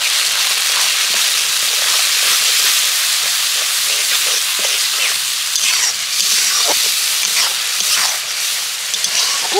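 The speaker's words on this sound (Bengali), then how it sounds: "এবার খুব সুন্দর করে মশলাটাকে কষিয়ে নেব।" Masala of turmeric, chili powder and tomato-ginger-garlic paste fries in hot oil in a pan with a loud, continuous sizzle and hiss, broken by faint scraping stirs throughout, without talking.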